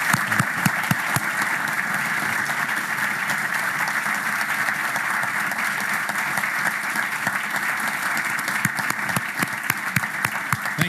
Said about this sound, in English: welcoming him with a strong round of applause